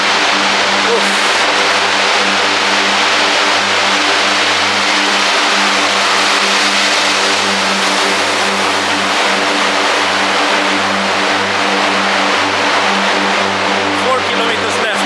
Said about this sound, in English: There is a lot of noise, perhaps, as you can hear in the tunnel, because of the cars and because of the ventilation systems.